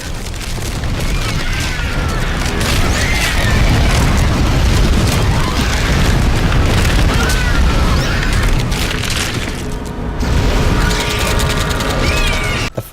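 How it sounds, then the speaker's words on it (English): Dead Space flamethrower firing in the video game: a dense, continuous roaring whoosh of rushing flame with mechanical rumbling, loud and close, dipping briefly near the end before surging again. "The flamethrower."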